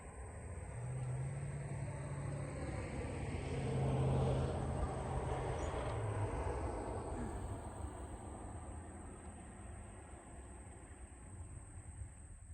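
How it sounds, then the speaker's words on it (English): A car passes by outdoors in a quiet area, a broad low rumble and tire hiss that swells toward the middle and slowly fades away, with no talk. "Like the car coming."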